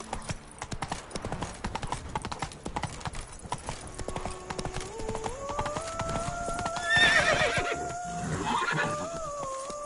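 Horse galloping in the Witcher 3 video game, rapid clip-clop hoofbeats followed by a loud drawn-out neigh near the end, with the hooves continuing underneath.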